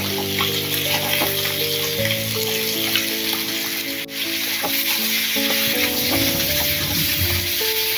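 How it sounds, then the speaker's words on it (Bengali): Cumin and turmeric powder sizzling steadily in hot oil for a Bengali rohu fish curry, a continuous close frying hiss with occasional stirring scrapes and no talk. "দিয়ে দেবো জিরের গুঁড়ো, হলুদের গুঁড়োটা তেলের সাথে ভালো করে মিশিয়ে নেব।"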